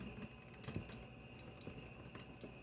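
Sharp, irregular clicks from the foot pedal switch of a Sunkko 797DH spot welder, several quick snaps spaced unevenly over a quiet room hum, fairly faint and close.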